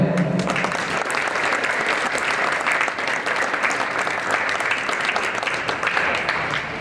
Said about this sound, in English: let's hear a big round of applause for him